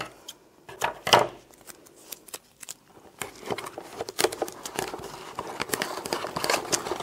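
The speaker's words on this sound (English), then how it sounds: "I'm going to use some tape to tape up the bottleneck" Tape being pulled and wrapped around the neck of a plastic bottle, close crinkly tearing and crackling bursts with short pauses between them.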